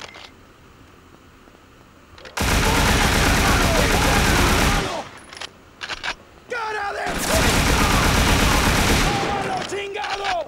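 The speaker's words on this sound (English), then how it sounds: "the shotguns is ruthless" Shotgun gunfire in the video game Scarface: The World Is Yours comes in two long, loud, dense bursts of blasts, separated by a short lull, with game voices and effects mixed in.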